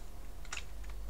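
Keys on a computer keyboard are tapped to move a game character in a PlayCanvas game, giving a couple of quick, close clicks in a short, quiet moment.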